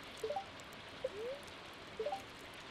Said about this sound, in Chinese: 看看这一天天气不是很好，天气预报下雨